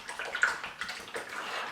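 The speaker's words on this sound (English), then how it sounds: "Wash that paintbrush." A paintbrush swished and rinsed in a pot of water, soft sloshing and gurgling in several short strokes, close and quiet with no speech.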